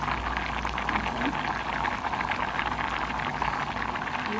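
Rice boils in a pot of water with a steady, dense bubbling and hiss that stays constant and close, with no talk over it.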